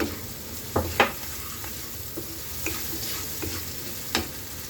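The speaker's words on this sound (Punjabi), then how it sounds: "ਮੈਂ ਪਹਿਲੇ ਤੜਕੇ ਵਿੱਚ ਤੇਲ ਪਾ ਕੇ ਤੇ ਹਿੰਗ ਪਾਤੀ ਥੋੜੀ ਜੀਰਾ ਪਾਤਾ ਫਿਰ ਅਦਰਕ ਔਰ ਪਿਆਜ਼ ਪਾਇਆ" Oil tempering with asafoetida, cumin, ginger and onion frying in a pan gives a steady low sizzle, marked by a few sharp spatula clacks and scrapes spaced irregularly throughout.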